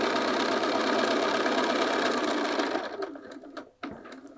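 A sewing machine stitching a field bag's divided pocket, a loud, dense, even whir for nearly three seconds, then short bursts of back-tacking and a pause, with no talking.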